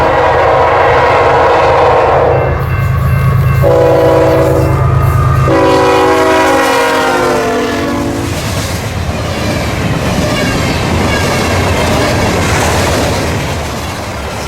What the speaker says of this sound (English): CPKC 230 is a manifest train that comes from Vancouver, Illinois to Toronto, Ontario.